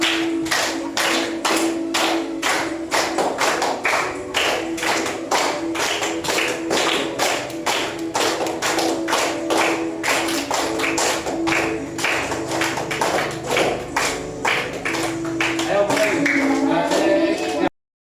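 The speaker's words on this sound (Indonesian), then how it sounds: "Terima kasih, tepuk tangan dulu." Rhythmic, evenly spaced claps from a classroom group, a steady beat that carries on for a long stretch before ending with a brief swell of voices.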